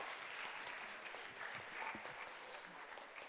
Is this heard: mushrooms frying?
no